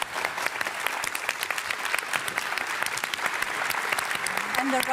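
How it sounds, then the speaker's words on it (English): Sustained audience applause for panel speakers at the close of a discussion, a dense steady patter of many hands clapping, fairly close and full, with no talk over it. "a round of applause for our speakers."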